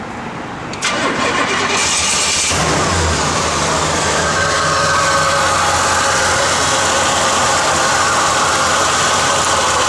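A 1966 Pontiac GTO engine cranks and catches, then settles into a loud, steady rumbling idle that carries on alone, close by.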